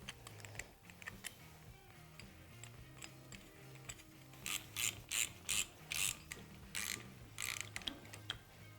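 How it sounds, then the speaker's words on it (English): Spring compressors worked on a Showa shock's spring retainer during an ATV or dirt bike shock rebuild, producing close, irregular metallic clicks and ratcheting, with louder sharp bursts of clacking in the second half. "So again, we're using these spring compressors"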